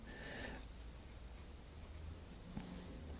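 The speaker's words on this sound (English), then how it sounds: "I'm writing the meaning as it is in the dictionary" A pen writes on paper while dictionary meanings are copied down. A faint, continuous scratching sits close but quiet under a soft room hiss, with one tiny tap near the end.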